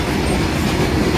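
A freight train rolls past a railway crossing, its wagons producing a loud, continuous close-range rumble with a steady clattering of wheels on rails and no voices.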